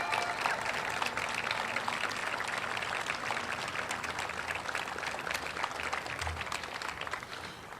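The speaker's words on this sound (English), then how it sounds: "Give her a round of applause." Audience applause at a news conference for a sculpture dedication, a steady dense clapping held at even level through the whole stretch, moderately distant.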